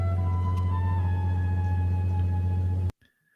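A Pagani Utopia supercar's engine holds a steady, deep idling drone close by, with a strong low hum and layered tones for nearly three seconds before it cuts off abruptly into near silence.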